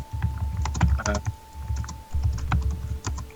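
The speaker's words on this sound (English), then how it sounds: "Gory, your typing's very loud" Busy typing on a computer keyboard during an online tabletop roleplaying session, a loud, close clatter of rapid keystrokes in bursts over a low steady hum.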